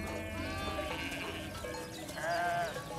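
Sheep bleat within a flock guarded by herding dogs, several overlapping calls rising and falling, one louder bleat standing out near the end over a busy outdoor background.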